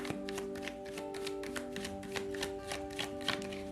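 Tarot cards being shuffled by hand, a dense run of quick riffling flutters and soft taps, close and steady throughout with no talk.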